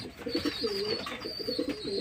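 Caged pigeons coo repeatedly in soft, throaty bursts, with a faint higher chirping running above them, close by and steady.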